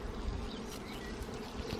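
Honeybees hum and buzz around a hive that may have swarmed. The drone is faint but steady, with single insects flying close by now and then, and no voices.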